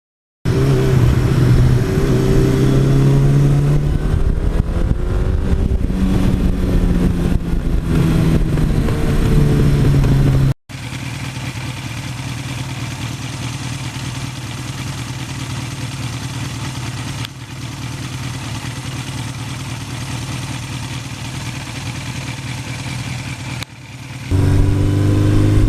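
A stock 1982 Suzuki GS1100E motorcycle engine running loud and close, with steady idling and rising, falling revs at first, then a sharp cut to a sustained even drone that picks up again at the very end.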